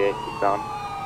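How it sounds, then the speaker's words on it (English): Police car siren in a police video game, a steady wailing tone with a brief louder swell midway, heard alongside traffic and a faint voice. "Now we're gonna turn on the siren because we're actually needing it to stop vehicles at this point"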